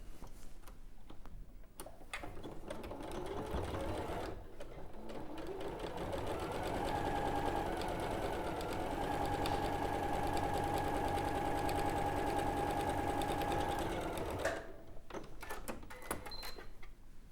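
Domestic sewing machine hemming pyjama trousers, a steady close mechanical whirr with rapid ticking stitches that runs for about ten seconds, with quieter handling noises before and after.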